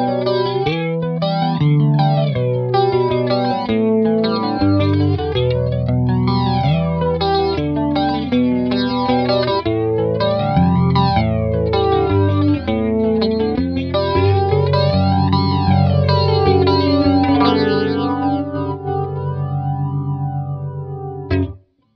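Electric guitar played through an Electro Harmonix Electric Mistress flanger pedal, a steady run of chords and notes with a sweeping, swirling jet-like whoosh, loud and continuous before cutting off at the end.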